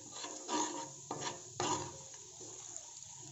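Wheat flour roasting in hot ghee in a pan, stirred with a spoon that scrapes in several short close rasping strokes, with no voices.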